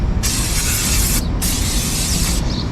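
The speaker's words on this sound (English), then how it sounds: "Spray with brake cleaner and wipe it down." Brake cleaner sprays onto the brake disc of a BMW E90 in two close, loud hissing bursts separated by a short pause, followed by the start of a third.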